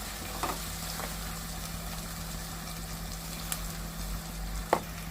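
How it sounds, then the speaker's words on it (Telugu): Ginger garlic paste fries in a pan for a cucumber and fish curry, giving a faint, steady sizzle over a low background hum, with a few soft stirring clicks. "మంచిగా ఇలా ఫ్రై అయిపోవాలన్నమాట, పచ్చివాసన పోయేదాకా"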